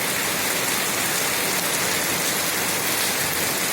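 Steady, dense rain pouring down on surfaces, a loud continuous hiss with no pauses or voices.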